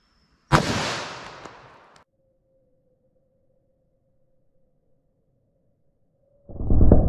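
.357 Magnum revolver fired through MDF into a ballistic block, one sharp loud gunshot with a decaying ring, then a long quiet stretch before another loud blast at the end.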